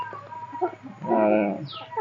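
Young country roosters on a small poultry farm cluck and call near at hand, with a longer strained crow-like cry in the middle and soft background chatter.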